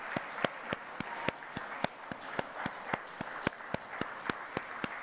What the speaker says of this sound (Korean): 박수해 주시기 바랍니다